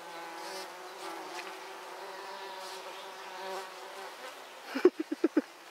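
Bees drone steadily nearby in a constant hum, ending with a few quick, louder buzzing pulses as one passes close.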